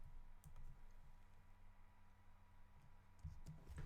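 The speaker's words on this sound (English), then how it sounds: "So I'm just going to type pan." Quiet keyboard typing at a computer, a few soft scattered key clicks over a low steady hum, faint and close with no voices.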